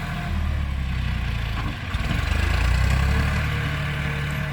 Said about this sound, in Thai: รถไถต้องมีประจำทีมงานครับ